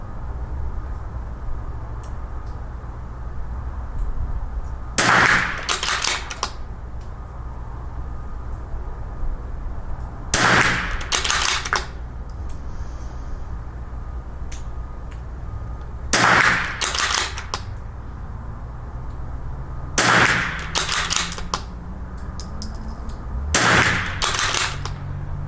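Five sharp rifle shots fired with Lapua Long Range .22LR ammunition on an outdoor range, spaced several seconds apart against steady background noise, each a loud crack with a short tail.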